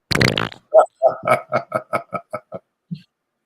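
A person imitates fart noises with the voice, blowing a quick run of about ten short, sputtering bursts close up. A moment of talking comes just before them, and the last burst trails off after a pause.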